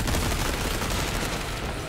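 Rapid, dense gunfire erupts in Resident Evil 4, a continuous loud fusillade of overlapping shots filling the whole moment.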